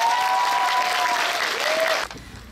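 Applause at an acting award ceremony for a theatre prize, a dense steady patter of many hands filling the hall, with a faint sustained tone running beneath it, then cutting off abruptly near the end.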